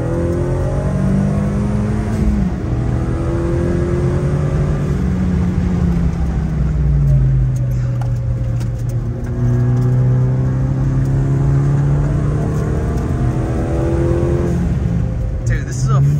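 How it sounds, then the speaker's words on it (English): A four-cylinder Ford Mustang EcoBoost pulls hard past or away, engine note sweeping upward in repeated rising gear pulls, loud and close, with voices mixed in. "this is a 4-cylinder Mustang EcoBoost that performs like unbelievable"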